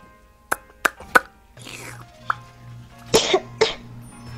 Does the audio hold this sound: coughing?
yes